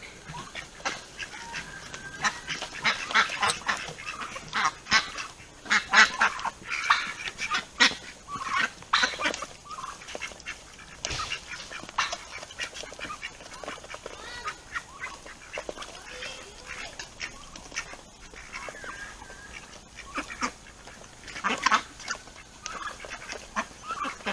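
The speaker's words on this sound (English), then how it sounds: "having ducks on your homestead" Ducks on a homestead quack and honk in irregular, overlapping bursts, nearby and fairly loud, mixed with other fowl calls throughout.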